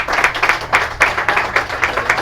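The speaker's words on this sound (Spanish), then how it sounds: "Nuevamente un aplauso para Miguel." A live audience applauds at a history group talk on little-known Mexican archaeological sites, steady clapping with rhythmic swells, fairly close and loud, with no talk over it.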